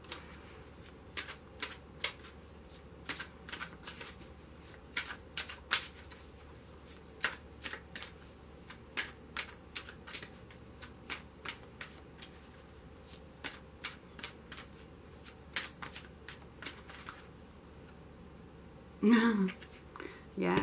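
Tarot cards being shuffled by hand in a quiet room: repeated soft riffling bursts and flicks at an irregular pace, close to the microphone, ending with a brief louder shuffle.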